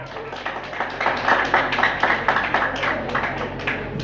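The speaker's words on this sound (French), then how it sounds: "On applaudit très fort." An audience at the Miss Ouvrière Haïti pageant semi-final applauds, a few seconds of scattered, moderately loud clapping that swells in the middle and tapers slightly toward the end.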